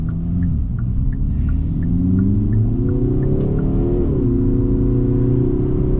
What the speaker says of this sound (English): the engine is nice, pulls nice, turbos kick in, not a lot of turbo lag